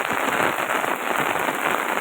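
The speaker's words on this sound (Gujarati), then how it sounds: "અત્યારમાં ફૂલ વરસાદ એકદમ જોરદાર" Heavy rain pours down in Rajula, a dense, steady hiss of drops drumming on surfaces, loud and close and continuing without a break.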